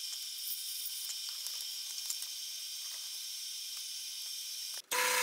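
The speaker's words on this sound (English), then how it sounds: "so at least on this occasion I am going to weld it" Steel die holder being welded, a steady close crackling sizzle of arc welding that runs evenly for about five seconds, then cuts off abruptly near the end into a brief burst of broadband noise.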